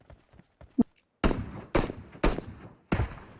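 Four loud, sharp gunshots ring out in PUBG Mobile, evenly spaced about half a second apart after a few faint clicks and taps.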